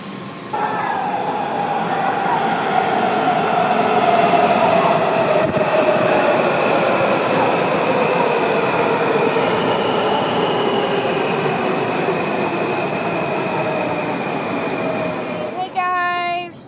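Washington DC metro train running steadily and loud for about sixteen seconds, with a rumbling roar, long squealing wheel tones that glide in pitch, and a burst of rapid clicks near the end.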